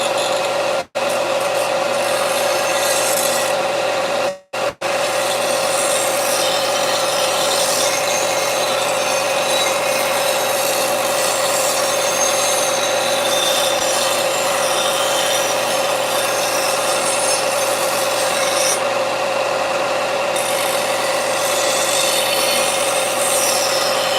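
Finer-grit sandpaper rubs back and forth over homemade armour in a garage, a loud, continuous abrasive scratching with two brief pauses early on, close to the listener.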